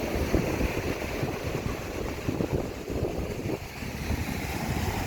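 Big sea waves slap and rush around a small fishing boat at sea, with gusty wind buffeting the microphone in a continuous rough wash.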